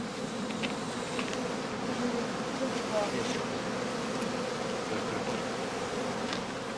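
Honeybees buzz steadily around a straw skep hive during autumn colony work, a dense continuous drone with individual insects passing close now and then, with faint voices in the background.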